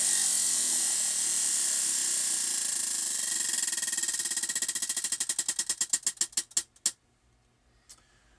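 A prize wheel spins with a rapid ticking that slows into distinct, spaced clicks before stopping, then one last faint tick, close and clear.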